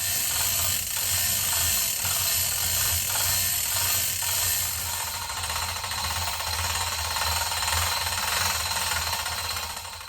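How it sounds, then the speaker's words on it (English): Steady crackling and buzzing from metal welding on the bottom of a scrap-built compost tractor frame in a metal shop, loud and continuous without pause. "I got the bottom side of this thing all welded up"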